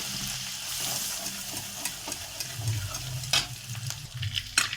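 Cardamom, green chilli and garlic fry in oil in a wok, making a continuous close sizzle with scraping stirring strokes and sharper crackles, with no talking.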